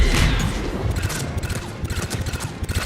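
Rapid bursts of the Disciple shotgun firing in Mass Effect 3 during a fight against Banshees, a loud opening blast followed by a fast run of sharp repeated shots with mechanical clatter.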